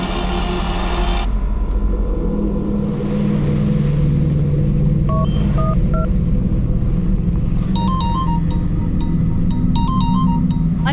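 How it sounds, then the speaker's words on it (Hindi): A telephone rings in a Hindi horror drama: short bursts of electronic ringing tones repeat over a steady low rumble and background music after an opening tonal hum. "देखना किसका फोन है।"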